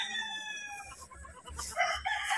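A rooster crows once, fairly close, at a gamefowl farm, followed by clucking and scattered bird sounds in the background.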